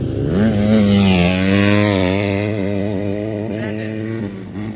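A dirt race motorcycle on a dry, dusty course roars past close by, its engine pitch climbing then falling away as it passes, loud and without talk.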